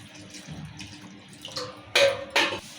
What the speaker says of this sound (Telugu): ఇప్పుడు ఇవి చల్లగానికి వాటర్ పోసుకుందాం చల్ల నీళ్ళు పోసుకుందాం మళ్ళీ